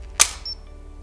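Nikon EM film camera shutter firing once, a single crisp mechanical click up close followed by a short, faint whirring tail, in an otherwise quiet room.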